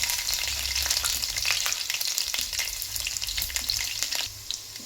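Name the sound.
mustard seeds and garlic sizzling in hot oil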